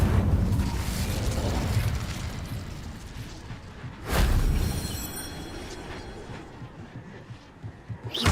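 An Incendio fire spell is cast in Hogwarts Legacy, a loud whooshing burst with a deep low boom over rumbling background noise, then a fading crackle that tails away.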